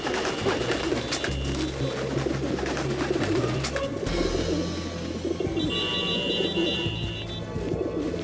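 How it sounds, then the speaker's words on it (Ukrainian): Cartoon pigeons coo nearby in a low, repeated burble, with other tones and ambient noise around them. "Голуби заполонили Париж."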